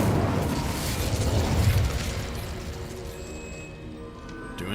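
The Incendio fire spell in the Hogwarts Legacy video game goes off as a rushing, roaring burst of flame that swells for a couple of seconds, then fades into a thinner lingering tail with faint ringing tones.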